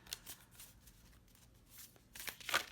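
Tarot cards shuffled loosely by hand, a quiet run of soft riffling flutters and slides that swells into a brisker, louder burst near the end, with no voices.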